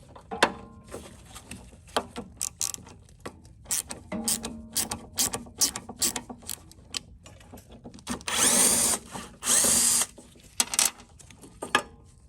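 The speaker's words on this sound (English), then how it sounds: "use a ratchet just in order to break the torque here" Quick bursts of ratcheting clicks and metallic tool rattles as a ratchet loosens a bolt on a Toro lawn mower come in short irregular runs, with a louder whirring burst near the end.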